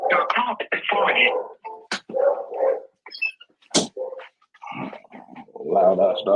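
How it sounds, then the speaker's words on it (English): A loud dog barks in a few sharp bursts between stretches of talk, with people speaking during a live phone session. "Loud ass dog."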